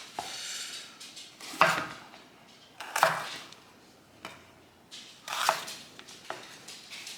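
A knife cuts bell peppers into pieces for grilling on a cutting board, making several distinct, fairly quiet chops and knocks spaced irregularly, with soft rustling between them.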